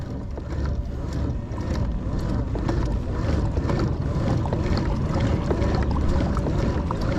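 Feelfree Moken 10 PDL pedal-drive kayak moving in reverse, with steady water rushing and splashing around the hull under constant wind noise, close and fairly loud throughout.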